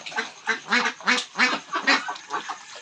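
Pekin ducks bathing in a backyard, quacking in a rapid series of loud, close calls at a quick, uneven rhythm.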